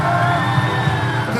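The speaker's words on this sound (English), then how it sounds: "Please give them a round of applause, please." Audience at a bodybuilding motivational speech cheering and whooping loudly, a dense sustained crowd roar with shouts rising over it.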